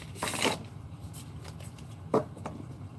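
Tarot cards are shuffled by hand in a soft riffling burst, followed by quieter taps and a brief second flutter of cards, all close and faint.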